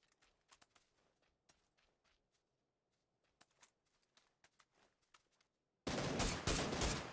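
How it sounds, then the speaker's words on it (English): Gunfire in a PUBG esports match: sparse, faint distant shots scattered through near-silence, then a sudden loud, dense burst of close automatic fire for the final second. "Some shots going out at Solar right now."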